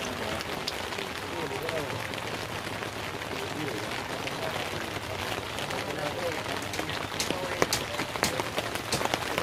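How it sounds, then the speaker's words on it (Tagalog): Steady rain pours over a cornfield area in Davao Oriental during the corn harvest, a dense continuous hiss with scattered louder drop hits, and a person speaks over it. "Inuulan na yung aking area dito."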